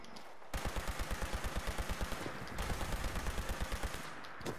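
Rapid automatic gunfire from a video game weapon, a steady loud burst of evenly spaced shots that pauses briefly and resumes, with no talking over it.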